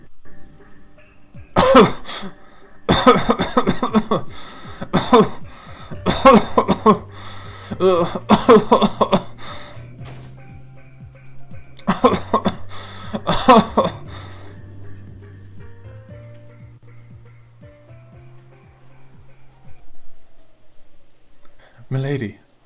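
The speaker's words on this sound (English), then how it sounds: "kept coughing and choking" Harsh bursts of coughing and choking in the visual novel Umineko come in rapid clusters, loud and close, separated by short pauses, with a low steady hum underneath.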